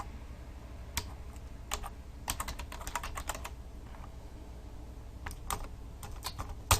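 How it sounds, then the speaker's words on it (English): Typing on a computer keyboard while writing HTML form code, the keyboard reportedly acting up; quiet, irregular clusters of soft key clicks with short pauses between bursts, heard alone with no talking. "Keyboard's acting up."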